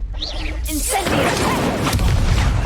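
Incendio fire spell cast in Hogwarts Legacy, a sharp whooshing burst that erupts loudly after a short magical swirl and continues as a crackling, rumbling flare, with combat sounds blending in.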